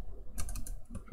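Keys clatter on a computer keyboard in a short burst of several quick, close taps over a faint background hum.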